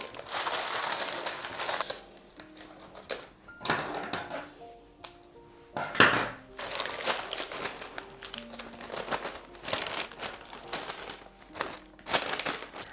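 Wrapping paper crinkles and rustles as a marshmallow flower bouquet is assembled, with repeated close, loud crumpling bursts and sharp crackles throughout and no speech.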